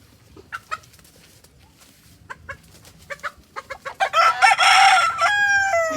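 Chickens cluck in short bursts on a fighting-cock farm, then a rooster crows loudly and close by near the end, its long call rising and falling.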